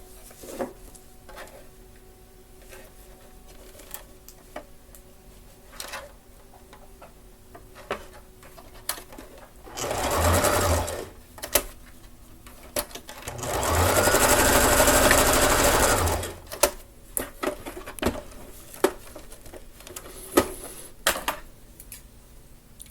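A sewing machine stitches shoelace strings onto a jumper in two bursts: a shorter run, a pause, then a longer steady run lasting several seconds, with quiet handling clicks between them.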